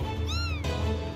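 A person imitates a cat with a single drawn-out, rising-then-falling meow over constant background noise from a Totally Accurate Battle Simulator game session.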